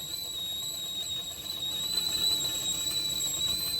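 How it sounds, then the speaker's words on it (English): A kettle boiling water for coffee whistles steadily, a sustained high-pitched tone with faint overtones, holding constant for several seconds over quiet background noise. "Hot water ready for coffee. It's a whistling."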